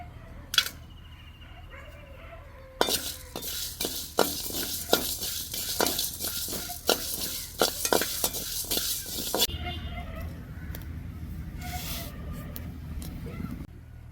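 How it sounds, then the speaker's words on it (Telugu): Cinnamon sizzles in oil in a pan while making prawn pickle. A utensil scrapes and clanks rhythmically against the pan for several seconds, then a softer, steady frying hiss continues alone. "ఇందులోనే పట్టా మగ్గ వేస్తున్నా"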